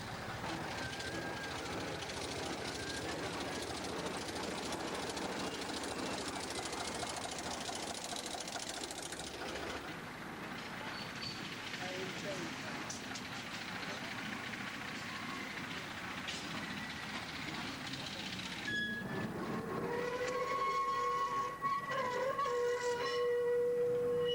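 A 1936 Ruston locomotive, first used at a cement works, running along a railway line, its engine a steady mechanical drone with faint clanking that fades partway through before higher squealing tones rise near the end.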